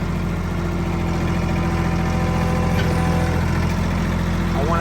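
A tractor engine idles loudly and steadily up close, with a deep, even rumble and a constant vibrating hum. No talking is heard.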